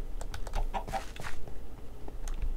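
A chicken in the Minecraft video game clucking in short, quick bursts, mixed with rapid clicking taps at close range.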